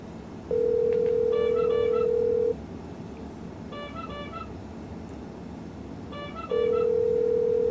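A Ubiquiti VoIP phone line rings with long steady tones, two of them several seconds apart, with faint electronic chirps in between.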